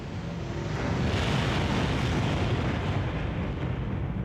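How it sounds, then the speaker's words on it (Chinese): A deep, continuous roaring rumble of a white dwarf star exploding like a nuclear bomb, broad and heavy, filling the whole stretch without pause. "白矮星将会整体作为一颗核弹爆炸"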